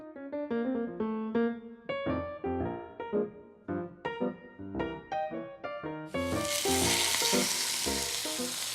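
Music plays first, then a loud, steady sizzle takes over as a roughly 2-pound pork tenderloin, spiral-wrapped in maple bacon held with toothpicks, sears in a hot pan.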